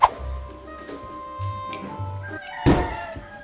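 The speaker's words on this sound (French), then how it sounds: "Surtout qu'un bébé chat, ça miaule. Ça miaule fort." A kitten gives a few high, insistent meows close by, separated by short pauses, with a soft thump near the end.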